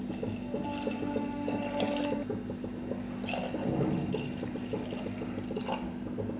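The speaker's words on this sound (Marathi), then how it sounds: "आता आपण याच्यामध्ये पाणी टाकून घेऊ।" Water pours into a vessel of washed matki (moth beans), a continuous splashing fill with a low steady hum underneath, lasting the whole stretch without pause.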